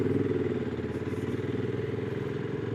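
A retro cafe racer motorcycle engine idles steadily up close, a loud, even, throbbing putter with mechanical clatter and no voices.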